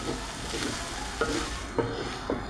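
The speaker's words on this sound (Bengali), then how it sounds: "মাছগুলো বাদামি রং হওয়া পর্যন্ত ভাজতে হবে" Taki fish frying in a pan, a dense, close sizzle with occasional soft scrapes and knocks as the pieces are turned.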